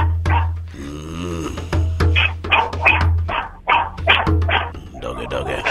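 Rapid high-pitched yips and barks from a small dog nearby, repeated in quick bursts with a whiny tone between them.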